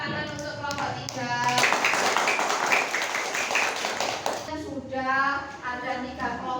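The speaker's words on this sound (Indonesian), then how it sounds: "Beri tepuk tangan untuk kelompok 3." Classroom audience clapping for a student group, a few seconds of dense applause sandwiched between a presenter's speaking voice.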